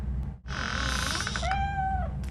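A cat in the video game Robocop: Rogue City gives one drawn-out meow that rises and then falls, heard close and clear over a low background hum.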